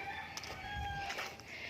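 Chickens and a rooster crow and cluck faintly in the distance, a thin, drawn-out call over steady outdoor background noise.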